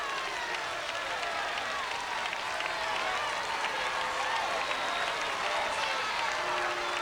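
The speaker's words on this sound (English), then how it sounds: "being acclaimed by a crowd of hundreds of thousands of people" A vast crowd of hundreds of thousands in Warsaw cheers and applauds Pope John Paul II on his return to Poland, a steady, dense roar of clapping and voices that holds at the same level throughout.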